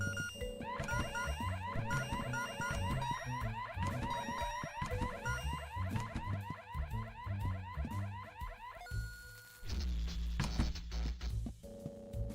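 A loud electronic alarm in The Last of Us Part I whoops in a fast, repeating siren pattern for about nine seconds, then cuts out, leaving a low rumbling hum and a brief mechanical clank.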